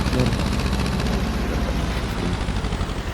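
A tractor engine runs in a steady, loud low rumble with a pulsing chug, heard close by while someone talks over it.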